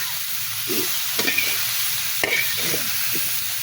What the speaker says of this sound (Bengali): আলু আর ফুলকপি ভাজতে দিয়ে একটু নিচে গেছিলাম